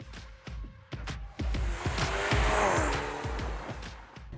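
A 2021 Mercedes-AMG GLA 35 engine with AMG exhaust valves revving hard and accelerating up through the gears, loud and close, its rising whine interrupted by sharp, regular pulses.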